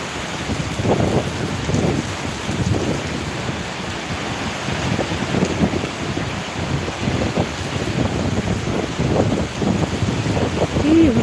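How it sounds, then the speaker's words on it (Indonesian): Heavy rain pours down in Papua, a loud, close, unbroken roar of water that holds steady throughout. "Hujan di Papua nih teman-teman. Hujan paling besar."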